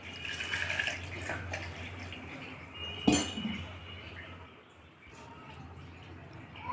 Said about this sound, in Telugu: ఒక హాఫ్ గ్లాసు వాటర్ అండి